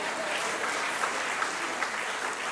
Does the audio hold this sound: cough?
no